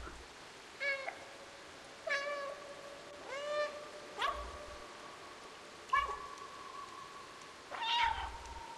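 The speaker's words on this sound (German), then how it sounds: "Ich habe das Gefühl, man hört das Miauen vielleicht doch." Several cat meows from the video game Stray, about five separate calls spaced a second or two apart, fairly clear and close with no talk over them.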